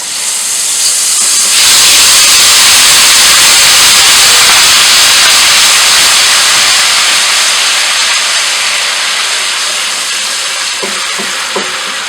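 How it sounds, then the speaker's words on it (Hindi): Cumin seeds and garlic-ginger paste hit hot oil with a sudden loud, steady sizzle and steam hiss that runs throughout, broken by a few small clinks near the end. "अब मैं ऑयल में 1 चम्मच ज़ीरा डाल दूँगी, और इसके साथ लहसुन अदरक पेस्ट"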